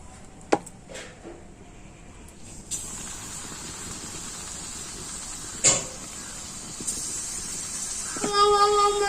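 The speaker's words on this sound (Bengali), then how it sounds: "সেই ডো থেকে অল্প অল্প করে নিয়ে তেলে ভেজে নেব।" Small pieces of besan (gram flour) dough frying in hot oil on low heat for a sweet, giving a steady soft sizzle with a few louder pops and light utensil clicks.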